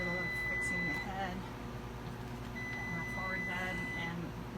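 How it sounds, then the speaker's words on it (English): A low voltage alarm on a boat's electrical system sounds two long, steady, high electronic tones, fairly faint, against a constant hum. People speak under and between the tones. "And now we have another alarm saying low voltage, that the battery is not charged"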